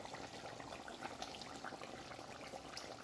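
Fish curry with potato, pointed gourd and tomato simmering in a pot in a Bengali country kitchen, giving a steady, soft bubbling and gurgling of boiling broth heard close and alone.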